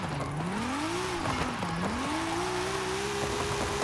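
Engine in a car in Forza Horizon 5 revving after a clutch kick, pitch swooping up, dipping, then climbing and holding high, loud and continuous with faint tire noise.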